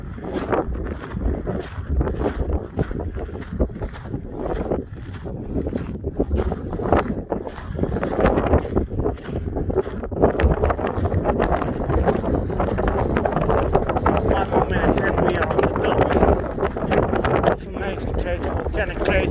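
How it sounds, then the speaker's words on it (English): Strong wind gusts buffet the microphone outdoors on a walk near a red-rock volcanic crater in fog, a loud continuous roar and rumble that never lets up. "See wind and fog."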